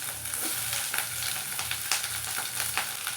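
Mustard seeds, fenugreek, cumin, dried and green chilies, garlic cloves and chopped onion sizzle loudly in hot oil as a tempering for a horse gram soup, with continuous close crackling and occasional stirring scrapes and no talk.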